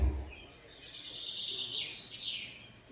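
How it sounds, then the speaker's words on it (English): Birds singing in early-morning woods in western Pennsylvania, a faint, continuous high chirping chorus heard at a distance with no talk over it. "Birds are singing."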